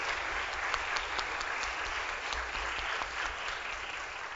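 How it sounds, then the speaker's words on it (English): Steady applause from a church congregation at an Easter Sunday service, a dense, even wash of many hands clapping throughout with no talk over it. "give them a round of applause"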